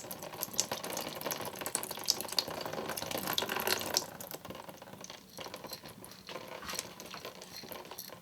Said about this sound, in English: Then you want to put in even more water.